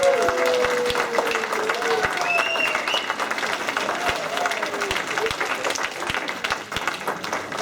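A theater audience applauds a cast of actors with dense, steady clapping, some sharp individual claps standing out and a voice briefly audible over the crowd.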